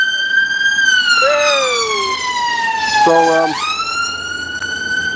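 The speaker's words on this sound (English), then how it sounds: "Oh, we got the ambulance." An ambulance siren wails loudly and close, its tone sliding and wavering with a brief rapid yelp section, while a voice briefly speaks over it outdoors near a migrant tent in Trafford.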